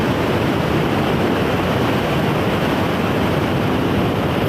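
River water rushes strongly near Anthiyur in Tamil Nadu, a dense, loud, steady roar of flowing water that continues unbroken throughout, with no voices.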